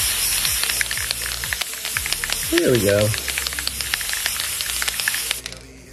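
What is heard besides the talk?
spray melt can spraying onto glue gun art canvas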